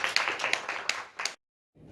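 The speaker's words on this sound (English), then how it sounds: "so let's give them applause again" A small group applauds a workshop team with brisk, uneven clapping that cuts off abruptly, then a brief pause before a voice begins speaking.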